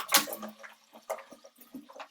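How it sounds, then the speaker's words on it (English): Cold water poured into a container in a classroom seawater density lab, a short splashing pour with a few quick gurgling bursts, close and alone. "I'm going to pour my cold water"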